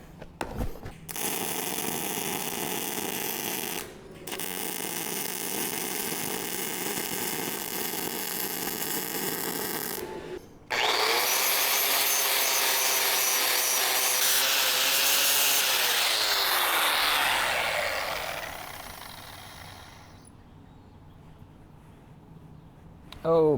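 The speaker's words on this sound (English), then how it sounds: "I'm gonna do this side, and then I'm gonna grind it flat, and then do the other side" An angle grinder works a weld flat on a vintage disc harrow, a loud, steady, harsh abrasive whine broken by two short pauses, then shifting pitch as the tool bears down before spinning down into quiet.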